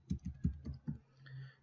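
A computer keyboard is typed on in a quick burst of about six close, crisp keystrokes, followed by a faint soft hum, with no talking.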